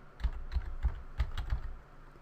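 Web address typed on a computer keyboard: about six clustered, fairly close keystrokes in an irregular rhythm, with no voice.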